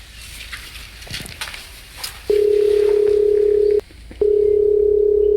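A landline telephone dial tone, a loud steady hum that starts after quiet handling noises, breaks off briefly, then resumes.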